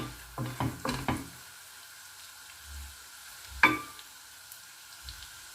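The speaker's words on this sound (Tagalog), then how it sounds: "Tuloy-tuloy lang po natin igisa. Parang yung normal lang na paggisa." Garlic sautéing in a pan for a salmon dish, a few scraping stirs early on and one sharp clink of a utensil against the pan over a quiet background.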